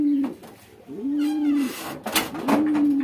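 Baby Lakka pigeons call close by in drawn-out, low, tonal coos, three clear calls separated by short pauses, with a few faint flutters and bumps between them.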